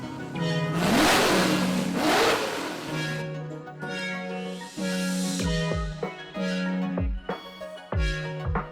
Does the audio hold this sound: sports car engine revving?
yes